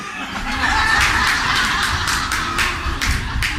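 Crow cawing in repeated harsh calls, several short bursts spaced through the stretch, moderately loud over a steady outdoor background.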